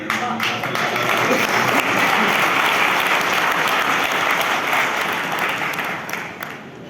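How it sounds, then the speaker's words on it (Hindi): Applause from a ceremony audience at a tourism event, sustained and fairly loud, many hands clapping in a dense even wash that holds for several seconds before easing slightly at the end. "10-12 लोग बजा रहे हैं"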